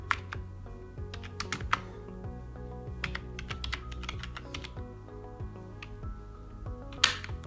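Fingers type on a computer keyboard in quick, uneven bursts of crisp key clicks, close and clear, with one louder tap near the end and no voices.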